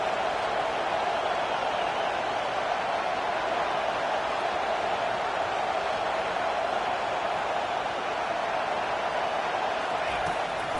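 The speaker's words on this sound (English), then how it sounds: "Listen to this crowd just shaking the girders of this place" Dense stadium crowd roaring steadily throughout a college football video game, LSU at Georgia, a loud continuous wash of cheering with commentary voices faintly beneath.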